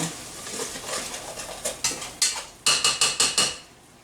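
A spoon stirs tomatillo sauce seasoned with pepper and salt in a pot, with soft scraping followed by a quick run of sharp metallic taps against the pot's rim, close and fairly loud.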